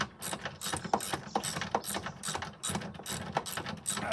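A hand ratchet loosens a rear shock absorber bolt on a 2003 Ford Windstar, giving rapid, close, repeated clicking strokes in a steady back-and-forth rhythm with no talking.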